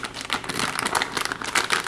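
Packaging for a Creative sound card included with an ASRock X79 Extreme6/GB motherboard crinkles and crackles in busy bursts as it is pulled open close by, with no talking.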